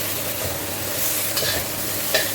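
Tomatoes for sambal frying in a little oil, a steady close sizzle with occasional scraping stirs and small pops, no voices.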